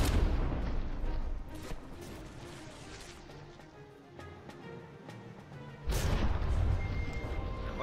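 Warship guns fire during a From the Depths battle tournament, heavy booming blasts with crashing impacts, loud at the start, quieter in the middle with scattered hits, then another strong burst near the end.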